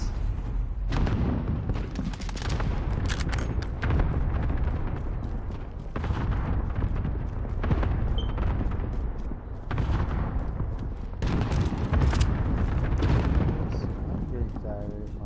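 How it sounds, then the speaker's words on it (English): An allied cluster strike in a video game sets off a barrage of loud, rumbling explosions in repeated waves, booming and crackling throughout, with a voice talking over them. "Allied cluster strike inbound."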